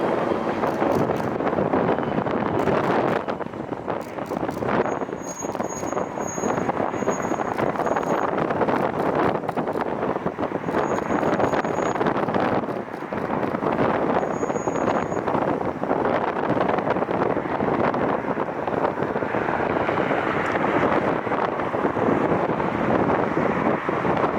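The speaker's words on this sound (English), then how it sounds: "It is windy up here today." Strong, continuous high wind roaring and buffeting the microphone throughout at Cleveland Hopkins airport, with faint brief tones and clicks cutting through now and then.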